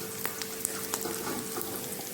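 Chopped onions fry in hot oil in a pan for semiya upma, giving a steady sizzle with scattered crackles and pops at close range, without any voices.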